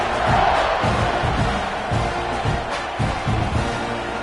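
A football stadium crowd roars just before a kickoff after a touchdown, a loud, sustained wall of cheering and yelling with rhythmic swells, close and filling the whole moment.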